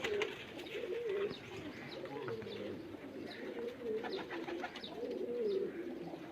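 Pet pigeons coo in soft repeated throaty phrases, fairly close and moderately quiet, with faint background noise and no clear speech.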